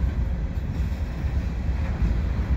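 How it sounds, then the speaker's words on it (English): A CN freight train of two-bay covered hoppers rolls past on the far track, a steady low rumble of railcars close by with no voices. "Here we have some two-bay covered hoppers. Looks like it might be a hopper train."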